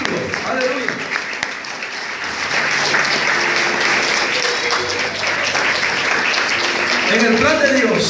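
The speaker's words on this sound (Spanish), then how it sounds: "a quien quiero darle palmas en esta hora para honrarlo, para bendecirlo" A church congregation claps in praise during a Spanish-language worship service, with dense, sustained applause that runs throughout and swells louder toward the end, while a voice speaks and calls out over it.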